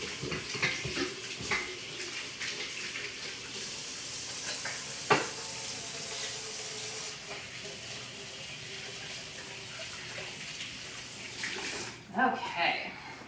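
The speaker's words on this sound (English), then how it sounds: "I'm going to give my hands a quick wash," Hands are washed under a running kitchen tap, a steady moderate rush of water with splashing and a couple of sharp knocks and clatters, ending in a louder burst of splashing.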